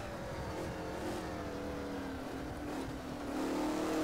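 Race car engine in the rFactor racing game running steadily at part throttle in fifth gear through corners, a continuous droning hum that swells slightly louder near the end.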